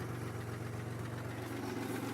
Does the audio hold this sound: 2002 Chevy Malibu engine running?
yes